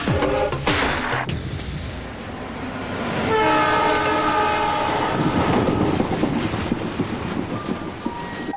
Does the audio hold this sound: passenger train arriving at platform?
yes